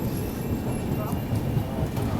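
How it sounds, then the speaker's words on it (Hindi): Jansadharan Express train pulling into Barabanki Junction, a dense low rumble of wheels and coaches rolling steadily nearby with faint clanks, continuous throughout. "जनसाधारण एक्सप्रेस अभी ये आ रही है बाराबंकी पे"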